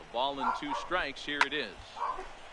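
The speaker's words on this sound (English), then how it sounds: "Sorry about the dogs." Dogs bark and yip in the background of a baseball video game broadcast, short scattered barks mixed under a commentator's play-by-play talk.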